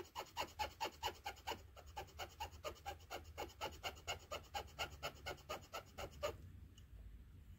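Corroded pins on a Super Game Boy cartridge are scraped in quick, regular back-and-forth rasping strokes, close and crisp, about two dozen in a row before stopping abruptly into quiet.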